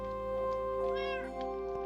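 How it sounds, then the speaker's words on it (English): A cat meows in a Minecraft world, one drawn-out, wavering meow heard clearly against a steady background hum. "So this is where the cat lives"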